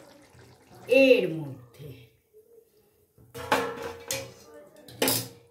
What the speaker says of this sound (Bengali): এইবারে এই গরম জলটা আমি আবার দিয়ে দিচ্ছি